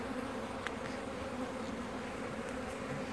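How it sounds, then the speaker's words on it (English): A dense, continuous buzzing of a swarm of honey bees at a hive hums steadily close by, with no pauses and no voices. "A ton of dang bees."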